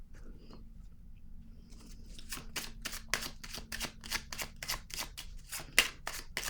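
Tarot cards being shuffled in a quick run of crisp riffling slaps and flicks that build after a quiet start, close and moderately loud, with no talk.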